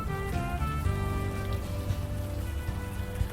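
Steady rainfall in the Unavowed adventure game, a continuous patter over a low musical score, with no voices over it.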